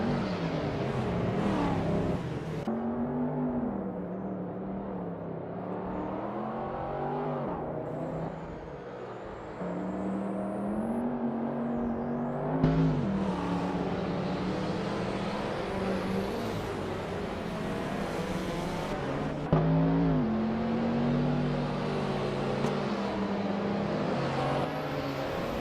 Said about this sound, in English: The cars are jockeying for position as they head into the first turn.